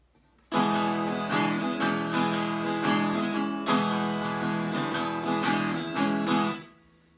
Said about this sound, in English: I started with my smallest guitar, which is a Taylor BT-2, Taylor Baby guitar